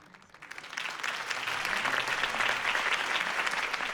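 A crowd applauds Harvey Dent's campaign speech in Batman: The Telltale Series, clapping that swells quickly from a few hands into a dense, sustained ovation with no voices over it.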